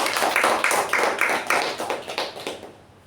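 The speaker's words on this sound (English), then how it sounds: "Let's give a round of applause for our Sergeant at Arms in attendance." A meeting audience gives a short round of applause that sounds like a small group clapping briskly and then fading out within a few seconds.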